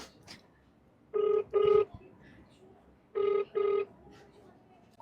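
An outgoing phone call rings out as a ringback tone: two double-ring bursts separated by a pause, clear and close, with quiet room noise in between.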